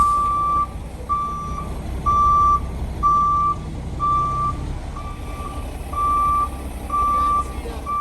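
Truck reversing at a house build site, its backup alarm giving about eight evenly spaced loud beeps over a low diesel engine rumble.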